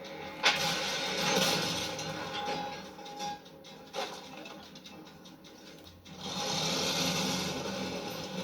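In the Battlefield 1 video game, a vehicle engine cranks and starts, then revs and drones as it drives off, a mechanical rattle rising and falling with a louder surge near the end.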